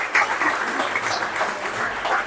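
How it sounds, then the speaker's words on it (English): An audience at a Zoroastrian jashan ceremony in an agiary claps in a steady, moderately loud round of applause that carries on throughout. "Now, with a round of applause, you all have anyway said my last statement."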